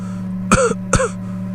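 A man's loud, harsh cough, two sharp bursts about half a second apart, close and alone in a quiet room.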